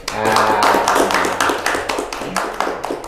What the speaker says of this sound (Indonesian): Aplaus dulu ya ini